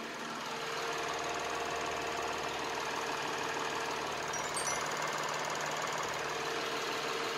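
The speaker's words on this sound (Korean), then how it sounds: "지금 바로 이 V6 6기통 엔진을 갖고 있는 IS250 차량의 엔진 소리 자세하게 들어보도록 하겠습니다." A 2011 Lexus IS250's V6 engine idles steadily with the hood open, a smooth, even hum with a faint mechanical ticking, heard up close and alone for the whole stretch.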